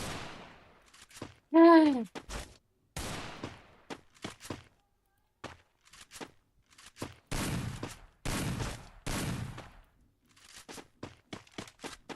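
Bursts of video game gunfire in short separated volleys, crisp and close, with gaps of near silence between them.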